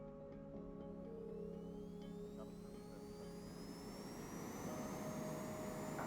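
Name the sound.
jet airliner taking off, from Airport Control 27 video game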